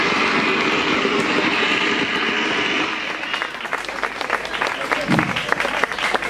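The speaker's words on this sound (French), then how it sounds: "nous pouvons nous tenir debout pour souhaiter la bienvenue à l'équipe Mimona-Grand en applaudissant très très très très fort." School students and guests at an institute stand and applaud a visiting team, a loud, continuous wash of clapping that thins into scattered, sharper individual claps with murmuring voices in the second half.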